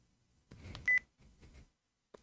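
A phone hang-up in a visual novel game gives a short electronic beep after some muffled handling noises, followed by a brief faint click near the end.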